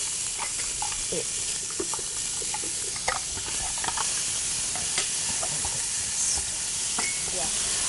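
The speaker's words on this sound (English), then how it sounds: "So we're going to go ahead and add these onions." Chopped onions hit a hot pan of sautéed garlic and sizzle in a steady, close hiss, with intermittent stirring scrapes and clatters running throughout.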